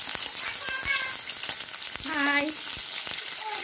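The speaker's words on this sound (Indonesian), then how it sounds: "Minyak, aku mau goreng ampelanya dulu." Chicken gizzards and hearts frying in hot oil in a home kitchen, a steady crackling sizzle running throughout, with a brief spoken word and a few faint high squeaks over it.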